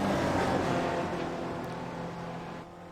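Race cars at Mount Panorama in the iGPFun sim racing game roar with a sustained engine drone that gradually fades and lowers in pitch, as if passing and pulling away, with no talk heard.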